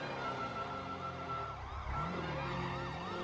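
A police escort siren in a video game wails in repeated rising and falling sweeps, moderately loud over a low engine rumble, with no talking.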